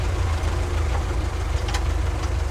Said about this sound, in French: Ah, ce bruit du moteur, il est voilà. Typique quand même.